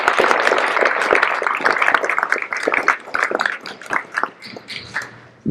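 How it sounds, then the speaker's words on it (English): Applause from an audience at a school district's State of the Schools address, a steady burst of clapping that thins out and fades over a few seconds. "a nice round of applause."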